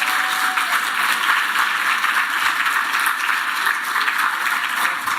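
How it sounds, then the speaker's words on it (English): Audience applause at an awards ceremony for household workers of the year, a steady wash of clapping from a crowd that fills the hall evenly for several seconds without pause. "Give her a big round of applause again."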